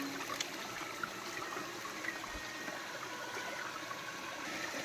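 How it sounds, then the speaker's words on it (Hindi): A cold mountain water stream runs into a house in a Pahadi hill village, giving a steady, quiet, continuous flow and trickle with no talk. "ये देखो हमारी जल की धारा जो हमारे घर में आती है।"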